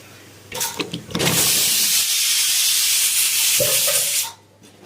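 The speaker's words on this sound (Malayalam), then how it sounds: "നാരങ്ങ വാടാനുള്ള വെള്ളവും ഉപ്പും രണ്ടും തിളച്ചു. അതിലേക്ക് ഈ നാരങ്ങ ഇടുകയാണ്." Limes drop into boiling salted water for a Kerala-style lime pickle, setting off a loud, steady steamy hiss that starts abruptly, holds for about three seconds, then cuts off.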